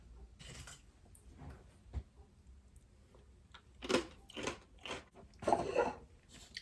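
Someone tasting homemade restaurant-style salsa made with canned tomatoes: soft, close chewing and wet crunching in a few short bursts, quiet, with no talking.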